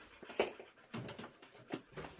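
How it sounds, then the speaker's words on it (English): Several dogs pant and breathe heavily indoors in a quilting room, with short whimpering bursts and puffs of breath coming in uneven spurts at moderate loudness, no talking. "there's a lot of heavy breathing going on in here, but it's not me, it's the dogs"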